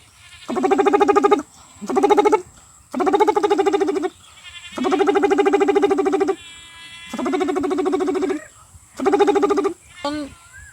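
A voice imitates the mating call of yellow frogs, giving about six loud, buzzing, croaking bursts, each held for a second or so and separated by short pauses, close up.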